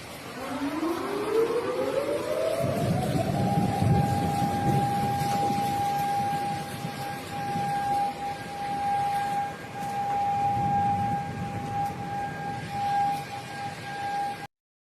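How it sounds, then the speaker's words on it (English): Flood warning sirens blare across Tokyo after historic rainfall, one long tone rising and then holding steady, echoing far off over the city against a wash of rain and ambient noise. "Eerie flood sirens blaring in Tokyo after historic rainfall slams the city."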